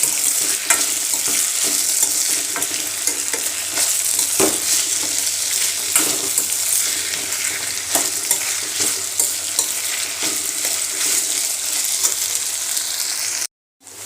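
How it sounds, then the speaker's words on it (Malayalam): Onions sauté with ginger garlic paste in a pan for chicken curry, giving a constant bright sizzle with repeated scraping stir strokes throughout before cutting off abruptly at the end. "അതിലേക്ക് നമുക്ക് ഇഞ്ചി വെളുത്തുള്ളി പേസ്റ്റ് ഇട്ട് കൊടുക്കാം. എന്നിട്ട് അത് നല്ലോണം വയ്ക്കാം"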